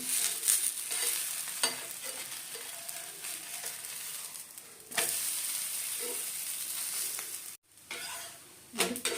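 A bottle gourd breakfast pancake fries on a hot pan after flipping, giving a close, steady sizzle with occasional spatula scrapes and a brief pause near the end, no talk.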